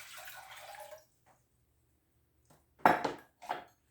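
Water poured from a measuring cup into a cooking pot for oatmeal: two short splashing pours close by, after a brief stretch of faint kitchen clatter and near silence.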